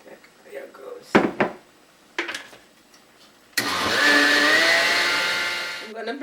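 After a few clunks and handling knocks, a kitchen blender starts up on carrots and water, a loud sustained motor whine that holds for a couple of seconds before winding down.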